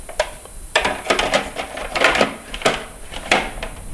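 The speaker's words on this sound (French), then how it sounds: "on va commencer par mixer les noisettes" A kitchen food processor chops hazelnuts for a raw-food recipe, giving a series of short, uneven rattling bursts and pulses at moderate loudness with brief gaps between them.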